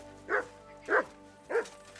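A dog in the medieval world of Kingdom Come: Deliverance II gives three spaced barks, each loud and close, with quiet background in between.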